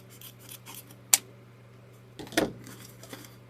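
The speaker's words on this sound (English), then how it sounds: "So I do need to cut that just a little bit more." Scissors snip designer ribbon for a summer watermelon welcome wreath, two quiet, close cuts heard about a second apart against a faint background hum.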